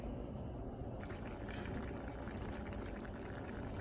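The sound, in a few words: rice and beans boiling in a pot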